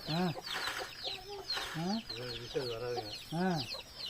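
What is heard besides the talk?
chickens clucking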